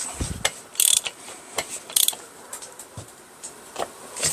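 Clutch being tightened on a Stihl 210 chainsaw: irregular metallic clicks and ratcheting taps, with a few sharper bright bursts, close and fairly quiet, no talking.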